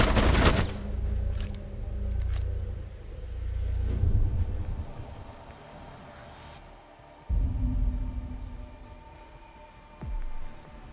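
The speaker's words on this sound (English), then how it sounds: "that magic bandit gun" Rainbow Six Siege gunfire from Bandit's weapon on the Bank map, a loud burst of rapid automatic shots at the start, followed by scattered shots, rumbles and game effects at varying distances.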